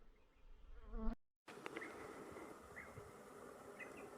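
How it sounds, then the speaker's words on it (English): Bees buzzing at a nest inside a pipe, a dense, close insect hum that breaks off abruptly for a moment and then resumes as a steady drone. "There's actually a bee's nest inside the pipe."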